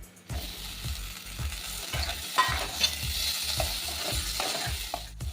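Poppy seeds and mustard seeds fry in a pan while a spoon scrapes and stirs in a regular rhythm, each stroke clattering over a soft background sizzle, close and fairly quiet.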